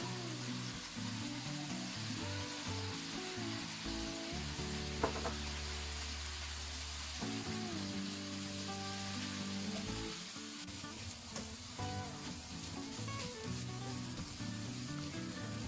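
Leftover rice stir-fried with soy sauce in a wok makes a continuous loud sizzle with scraping and tossing of the spatula throughout, close-up and without talk.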